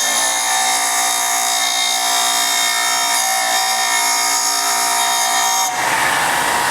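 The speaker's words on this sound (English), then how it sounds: "using the Home Depot grinder here, we'll just grind a general flat onto this guy" A Home Depot angle grinder grinds a flat onto a metal mold part, giving a loud, steady, high-pitched whine with grinding noise for several seconds before a brief change near the end.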